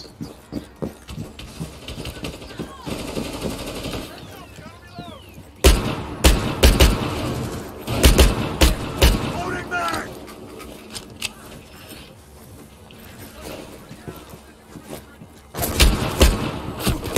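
Gunfire in Rainbow Six Siege: a few sharp, punchy shots spread across the clip, some in quick pairs, standing out from a lower background of game noise and quiet talk.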